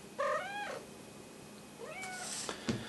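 A domestic cat meows twice nearby, a rising-falling call followed by a second meow about a second later, set indoors over quiet room tone with a faint tap near the end.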